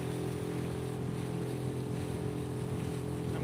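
Lake Pontchartrain water splashing and rushing against a moving fishing boat, a steady, dense wash of spray mixed with the low drone of the motor, continuous throughout with no talking.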